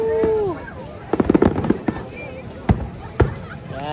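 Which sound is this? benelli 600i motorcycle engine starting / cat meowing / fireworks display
fireworks display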